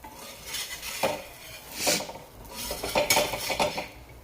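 A spatula scraping and clanking against an iron tawa as a sprouted mixed-lentil paratha is flipped, several distinct metallic knocks and scrapes at close range.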